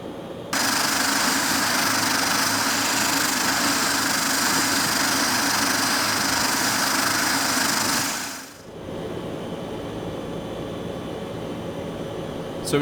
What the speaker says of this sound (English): So we're just taxiing out to runway 23